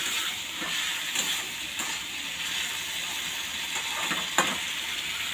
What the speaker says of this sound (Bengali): মশলা কষা হচ্ছে ওই যে হলদি দিয়ে দিলাম